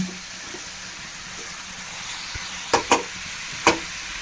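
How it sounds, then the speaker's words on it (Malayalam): Fish fries in a pan with a steady, moderate sizzle, broken by a few sharp clicks and spatters near the end, close by and without talk. "നമുക്ക് ഈ മീനും കൂടി ഒന്ന് വറുത്തെടുക്കണം"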